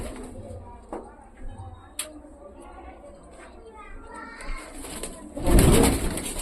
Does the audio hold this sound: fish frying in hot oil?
no